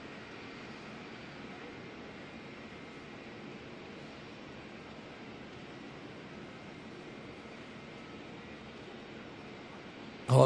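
Dash 8 turboprop taking off at Auckland Airport, a steady broad engine roar heard from a distance, fairly faint and unchanging throughout, with a brief louder knock at the very end.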